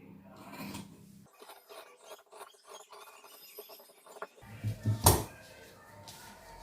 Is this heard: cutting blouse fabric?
yes